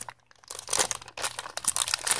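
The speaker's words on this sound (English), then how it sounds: "A little plastic bag of goodies." A small plastic bag of accessories for a RunCam Eagle 2 Pro FPV camera crinkles and crunches as it is handled up close, in irregular bursts after a brief quiet start.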